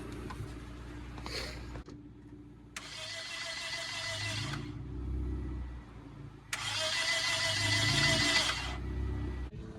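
Toyota Corolla engine cranking without catching in two long starter bursts, a steady mechanical whir with a hissy upper layer, separated by a short pause, close and fairly loud.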